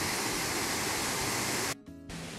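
Steady rushing roar of the Cachoeira da Prata waterfall, loud and broadband, cutting off abruptly near the end before resuming slightly softer.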